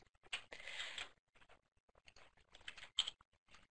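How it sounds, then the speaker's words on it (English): Fingers type on a computer keyboard in short irregular bursts of soft, close clicks and taps, quiet and separated by brief pauses, with no talking. "Hard time typing and talking at the same time."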